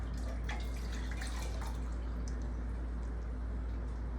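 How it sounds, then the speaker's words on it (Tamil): Water pouring into a cooking pot for cotton seed milk rice, a steady splashing stream with a few brighter drips, running continuously at moderate loudness. "அதுக்கப்புறம் நான் தண்ணி சேர்த்துட்டேன்"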